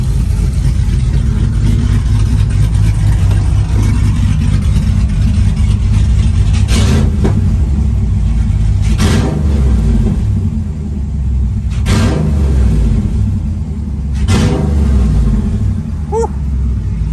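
A car engine fitted with BES Racing heads and an HPT cam rumbles loudly at idle with a lumpy, choppy beat, blipped into several short revs spaced a few seconds apart.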